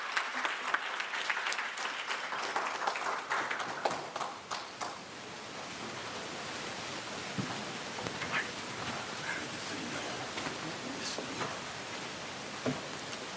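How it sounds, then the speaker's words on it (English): Audience at a cancer disparity summit gives a round of applause, dense clapping loud at first, then thinning to scattered claps over a low room hum. "Let's give him another round of applause."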